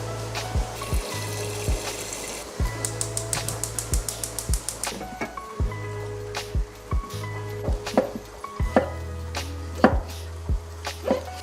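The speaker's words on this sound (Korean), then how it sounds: "이렇게 반토막만 낼게요." A knife chops potatoes and vegetables on a cutting board in a home kitchen, giving a run of sharp, close knocks in uneven bursts over a low steady hum, with a brief rapid flurry of quick cuts.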